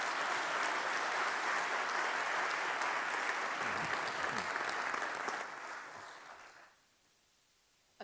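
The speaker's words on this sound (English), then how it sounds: "a big round of applause for our President" An audience at a university research and innovation awards ceremony in Dublin applauds strongly for their president, the clapping holding steady, then thinning and dying away into near silence, with a faint knock at the end.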